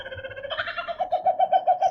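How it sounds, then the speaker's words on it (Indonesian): A bird calls with a run of repeated tonal notes in a steady rhythm, growing louder toward the end, heard alone at night. "Itu burung."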